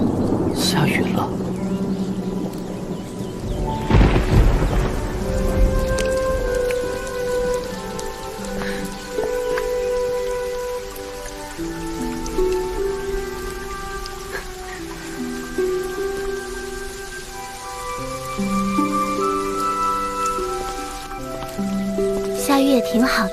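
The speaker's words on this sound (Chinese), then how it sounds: "下雨了。" Steady rain falls throughout, a dense close patter on surfaces in an animated fantasy series scene, with no clear thunder; soft dialogue and gentle musical notes run under and over the rain.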